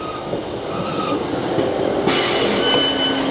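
A train pulling into Ardwick station, with steady rolling rumble and wheel noise building, a brief squeal, and brighter high-pitched hiss joining midway as it slows nearby, with no talk.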